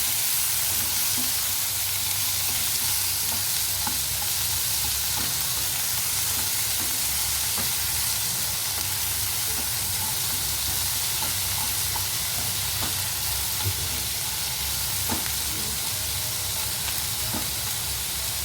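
Tondli masala curry frying steadily in a pan, a continuous dense sizzle and hiss with faint stirring clicks and no talk.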